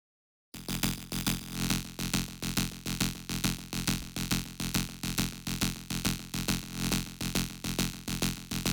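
Steady broadband hiss running under a pulsing synth bass pattern, the noise layer constant throughout and fairly loud.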